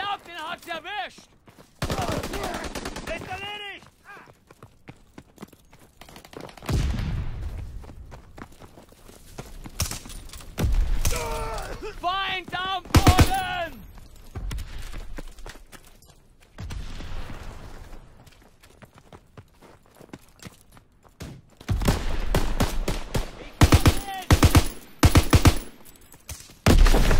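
Gunfire from a Call of Duty WWII battle, with bursts of shots and machine-gun fire breaking out between stretches of quieter action and game voices. A loud, dense volley closes the scene.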